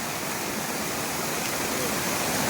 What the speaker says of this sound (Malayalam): ഇത്രയും വെള്ളം ഹൈവേ നിന്ന് ഒഴുകി വരികയാണ്.